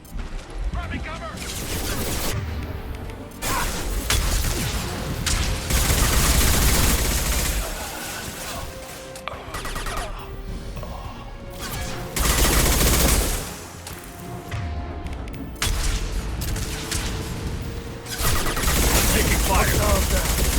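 Heavy firefight gunfire in Mass Effect 2, with rapid automatic bursts and sharp single shots rattling close and loud in repeated waves, under game voices shouting in combat.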